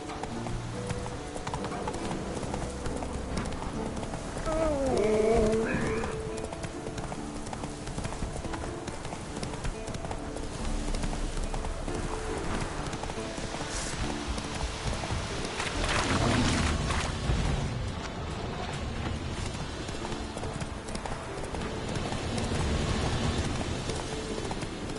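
Horse hooves clip-clop steadily in The Witcher 3 video game, a continuous close rhythmic trot with a brief whinny early on over ambient game sound.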